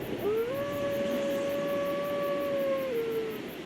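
The Great Grey Wolf Sif from the video game Dark Souls lets out a single long, sustained howl that rises, holds steady at a clear pitch for about three seconds, then dips and fades, loud and alone.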